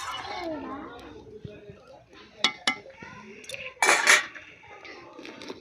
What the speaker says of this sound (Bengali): এবার মাছগুলো আমি ছেড়ে দেবো। দিয়ে একটু ফোটাবো মাছগুলোকে দিয়ে।